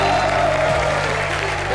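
A studio audience at a Colors TV comedy roast show breaks into steady, loud applause, a dense wash of clapping that fills the room evenly for the whole moment.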